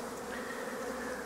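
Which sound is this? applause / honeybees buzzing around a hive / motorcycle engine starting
honeybees buzzing around a hive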